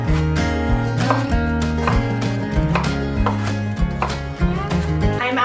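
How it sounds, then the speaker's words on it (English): A knife chops vegetables such as onion, carrot, celery or garlic on a board in quick, evenly spaced strikes, loud and close over a steady background tone. "on the days like today when I have extra time to do extra chopping, I just chop up more"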